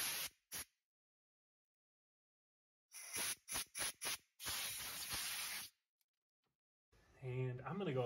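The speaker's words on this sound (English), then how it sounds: "take some compressed air and blow out the holes to get all the chunks and chips of aluminum out" Compressed air blasts debris out of holes in a Honda Civic R18 aluminum engine block, several short sharp hissing bursts then a longer sustained blast, close and loud, followed by someone speaking.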